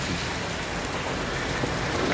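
Rain pours steadily at an outdoor swap meet lined with old cars, a dense, even hiss close to the microphone with no voices.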